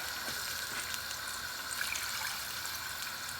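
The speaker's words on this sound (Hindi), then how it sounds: "ग्रेवी के हिसाब से ना हमने 2 कप जितना पानी ऐड कर लेना है।" About two cups of water pour into a pan of fried masala to make egg curry gravy, giving a steady, even splashing hiss that runs unbroken and moderately loud with no talking.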